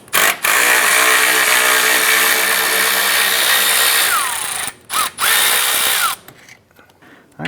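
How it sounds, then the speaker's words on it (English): A power tool with a 10mm socket removing the lower cooling fan bolts on a 2004–2008 Acura TL, running loudly in long continuous bursts with brief pauses and pitch changes as each bolt spins out. "Using a 10mm socket, we're going to go ahead and remove our lower fan bolts here."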